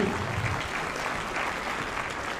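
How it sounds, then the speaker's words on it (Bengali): An audience in a hall claps loudly and steadily at a school board jubilee ceremony as the chief minister is invited to open it, a dense continuous applause heard alone. "একটা জোরে করতালি"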